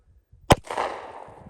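A single sharp 9mm pistol shot from a Beretta M9A3, fired into sand, cracks once at a moderate distance and trails off in a brief rumbling echo.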